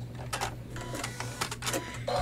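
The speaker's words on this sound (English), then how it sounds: "So it's just stitching down that stabilizer." An embroidery machine stitches stabilizer down on a quilted flange pillow, a steady mechanical whir with a constant low hum and rapid repeating needle clatter, close and moderately loud.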